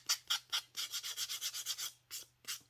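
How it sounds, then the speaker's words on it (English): Sandpaper scrapes away excess paper on a handmade cell phone holder in a run of close, raspy strokes: a few separate rubs, then a steady series, then a couple more, with no talking. "So now I'm going to sand away my excess paper."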